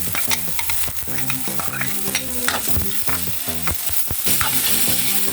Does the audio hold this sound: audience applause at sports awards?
no